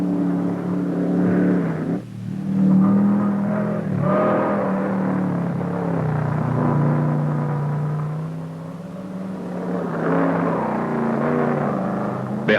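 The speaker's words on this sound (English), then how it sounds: "The first car out is driven by Ralph Bruning." A powerful race car engine climbs steadily uphill through its gears at the 1975 Pikes Peak Hillclimb, droning loud and near with a few shifts and surges, unbroken for the whole stretch.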